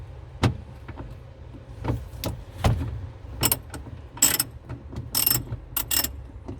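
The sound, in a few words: undoing a nut in a Ford Ka boot, ratchet clicking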